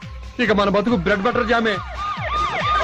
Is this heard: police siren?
yes